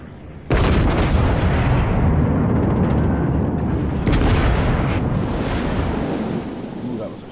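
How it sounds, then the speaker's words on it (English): Naval guns firing in the World of Warships video game, a heavy booming blast at the start and another a few seconds later, each rolling into sustained rumbling roar with wind and sea noise beneath. "Come on, bring my guns to bear."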